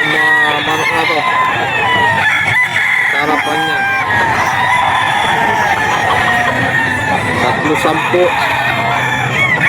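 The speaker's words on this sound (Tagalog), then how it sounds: "Yung mga manok na to." Roosters crow and chickens cluck at a busy pet market in Bocaue, where a gray full stag is among the birds on offer, with steady crowd noise and someone talking over them throughout.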